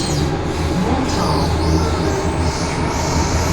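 A metro train runs along its rails with a steady rumble, faint rattling and a thin wheel squeal, loud and continuous inside the carriage.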